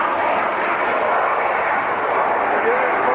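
Jet engines of a Lufthansa Boeing 747 landing at LAX roar steadily and loudly throughout, a broad sustained rumble with people's voices faintly mixed in.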